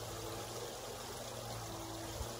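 Water flowing in a swimming pool, a continuous even rushing and trickling wash with a low hum underneath, steady and unbroken with no voices.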